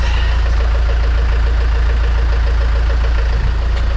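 Land Rover Discovery Series 1 with the 300Tdi diesel engine idling, a loud, steady low rumble with a fine rhythmic chug, close and unbroken throughout.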